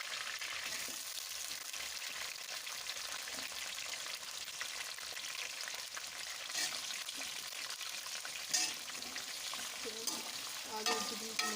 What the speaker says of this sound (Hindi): आलू और चिकन को मिक्स कर लेंगे।